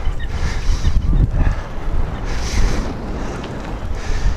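Wind buffets the microphone in a rough, low rumbling roar that swells and eases in gusts, a slight headwind from the south blowing near the water at Long Island Sound.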